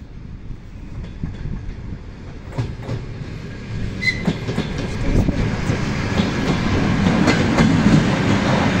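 ED4M electric commuter train pulling away from a platform, a low rolling rumble and rail clatter that builds steadily louder with scattered squeaks and clicks as it gathers speed.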